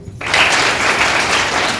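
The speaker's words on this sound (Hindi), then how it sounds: "ताली बजाइए।" Audience at a women's self-help group employment meeting breaks into sudden loud applause, steady clapping from many hands filling the room.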